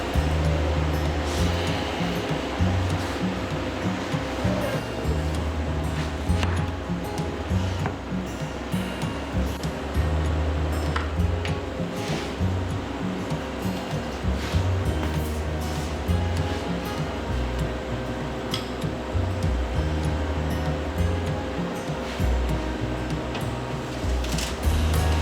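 A freeze dryer gives a steady mechanical hum with a low rhythmic throb throughout, like a compressor working continuously, with faint clicks and rattles layered on top.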